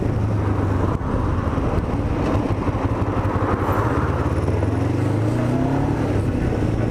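On an open road, a close motorcycle engine drones loudly with wind and traffic noise as another vehicle overtakes, the engine pitch shifting and rising near the end.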